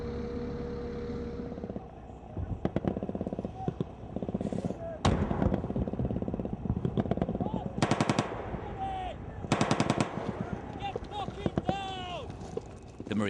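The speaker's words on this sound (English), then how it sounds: "The Marines' position is under fire." Gunfire hits a Marines' position in Afghanistan: bursts of machine-gun fire and single sharp shots crack at mid distance in irregular clusters, with voices in the fighting around them.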